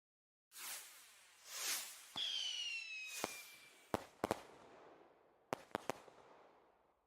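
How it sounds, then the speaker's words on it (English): Fireworks celebration effect from a Wordle word game: a couple of rising whooshes and a descending whistle, then a run of sharp crackling bangs in quick clusters, fairly loud with no talk. "Fireworks for Gaga."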